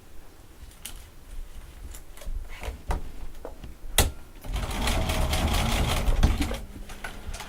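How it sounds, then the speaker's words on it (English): A sewing machine stitches around a witch doll hat made from an 18-inch doll panel, starting with scattered clicks and handling taps, then settling into a steady, close running whir for the last few seconds. "Okay, so we're going to sew that all the way around."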